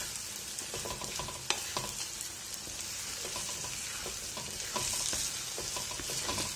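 Egg and green peas stir and fry in oil in a pan over a low flame, a steady soft sizzle broken by scraping stirs of a spoon, close and quiet with no talking.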